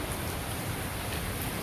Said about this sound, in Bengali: কেমন বৃষ্টি অবস্থা ওইদিকে হলো বাতাস বৃষ্টি